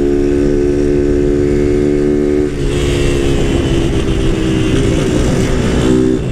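A Honda Titan 160 motorcycle with a modified exhaust and no air filter revs loud and close. Its steady, droning engine note turns rougher and higher partway through and keeps running without a break.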